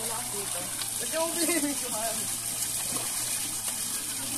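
Water gushes and splashes steadily as people bathe, a close continuous wash of running water with voices talking over it.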